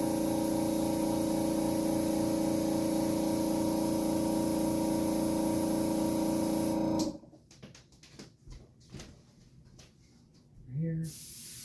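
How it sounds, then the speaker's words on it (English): FX makeup being sprayed on in small circles and figure eights, producing a loud, continuous hiss that runs steadily for about seven seconds and then cuts off abruptly, leaving faint scattered handling noises. "So you can see as I'm spraying, I'm keeping my hand moving"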